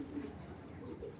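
A pair of red check racing pigeons coo softly nearby, with a low, continuous burbling murmur over a quiet background.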